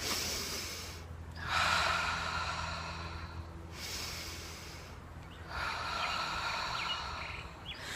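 Deep breathing exercise, slow loud breaths alternating between long airy inhales and exhales, each lasting a couple of seconds, close up and with no talking over them.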